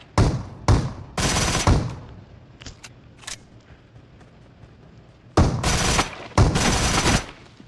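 Bursts of rapid gunfire come in loud clusters in PUBG Mobile combat, with quieter single shots and clicks in between.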